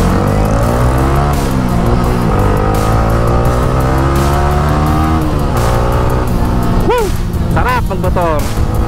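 A Kawasaki Ninja 400 motorcycle's 400cc engine revs loudly and close, its pitch sweeping up and down through repeated throttle blips, with a sharp rising whine near the end.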